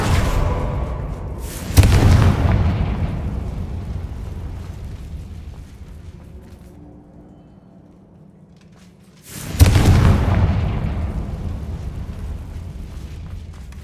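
Two heavy booming blasts from the Confringo spell in a video game, spaced several seconds apart, each a sharp loud burst that rumbles and fades slowly into quiet.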